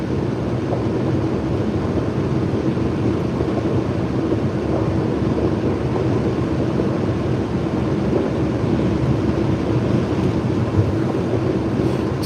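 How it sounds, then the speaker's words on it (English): Strong wind blowing from the left side against a car driving between Lelystad and Muiden in the Netherlands during heavy snow, a steady loud broadband roar and buffeting that lasts throughout with no pauses. "It's also pretty windy today. There's a strong wind from the left side"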